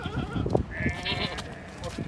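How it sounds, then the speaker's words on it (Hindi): Heavy castrated goats for sacrifice bleat at a livestock market in Multan, with one drawn-out bleat standing out over a busy background of voices and crowd noise. "5 अदद कुर्बानी वाले खस्सी बकरों की लाट है, हैवी वेट ये बकरे हैं।"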